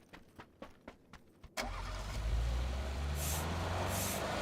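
Vehicle in the game PUBG on the snowy Vikendi map: a few short clicks, then an engine roars up loudly and keeps running in a steady drone as it drives off, close and alone.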